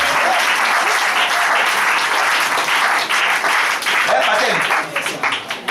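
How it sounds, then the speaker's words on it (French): A church audience breaks into loud, sustained applause, dense clapping mixed with crowd cheers that holds strong for several seconds and then thins into scattered claps at the end. "Est-ce qu'on peut acclamer pour le CTP là?"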